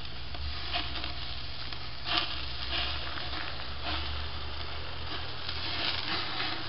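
Burgers sizzle steadily over a charcoal grill, a dense continuous frying hiss with small pops and crackles as grease drips toward the back.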